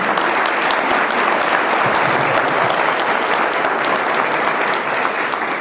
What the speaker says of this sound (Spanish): un aplauso para ellos dos y el agradecimiento